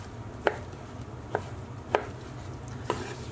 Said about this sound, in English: Next we're just going to chop this up into cubes like that.